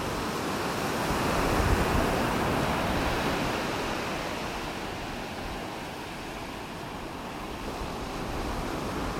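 Ocean surf breaking along North Naples beach in Florida, a continuous broad wash of rolling waves with gentle swells in intensity and some wind, steady and fairly close, with no voices.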